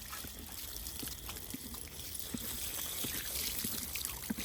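Water trickles and pours steadily at a horse farm, being poured out for the horses to drink, with small splashes and thuds scattered through a continuous close-up stream.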